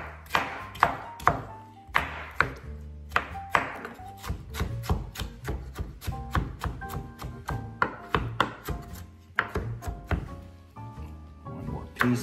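A knife slices a leftover tomato on a cutting board with a steady run of crisp, close chopping thunks, some quicker and some spaced, with no talk over them.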